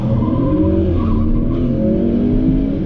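A modified Ford Mustang 5.0 roars loudly and continuously on a race track at a track day, its engine droning through gear changes with a hint of tire squeal.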